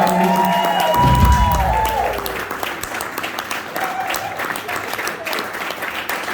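An audience at a live band show in a small venue, Little Albert's in Bathurst, applauds and cheers for a rhythm-section player, a loud sustained crowd of clapping with whoops, while a sustained tone fades early on.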